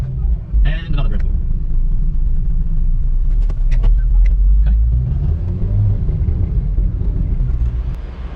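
A car rolls over a series of speed bumps on a road, its engine and tyres rumbling steadily and loudly up close, with brief knocks and a voice speaking over the top.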